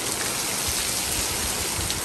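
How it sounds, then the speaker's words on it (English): Heavy rain pours down steadily during a windy tropical storm at an RV campground in DeFuniak Springs, a dense continuous hiss with low rumbling gusts and no voices. "Rain's coming down."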